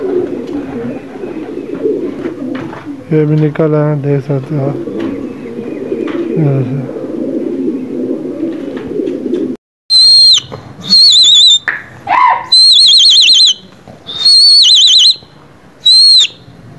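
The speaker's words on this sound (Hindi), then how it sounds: "शबीर भाई इधर से भी कबूतर निकाल रहे हैं" Pigeons being brought out coo steadily in low rolling phrases while someone talks nearby, then bursts of loud, shrill whistling take over in short repeated blasts.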